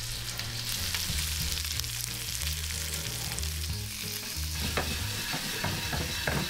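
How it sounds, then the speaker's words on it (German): Shrimp and garlic fry in olive oil in a hot pan, giving a continuous close, loud sizzle with clattering and scraping as the shrimp are turned. "direkt dazu der Knoblauch. Nach 20 Sekunden jetzt die Krevetten wenden."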